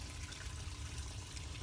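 Water pours from an emptying pool into a garden pond, giving a steady rushing, splashing flow that stays constant and fairly close throughout.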